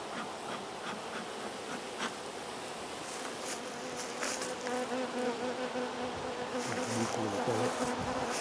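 Honey bees buzz steadily from an opened beehive, a dense close drone of many insects that grows slightly louder and fuller toward the end, with no voices.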